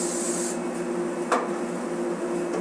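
Cooking spray from a high-low spray can hisses onto an egg grill for about half a second in a single close burst, then gives way to a steady background hum.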